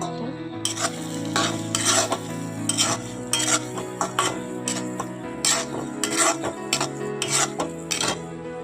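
Village-style desi chicken curry with chopped tomato, salt and turmeric being stirred in a pot: repeated metal spoon scrapes and clinks against the pan over a low, constant sizzle, close and rhythmic.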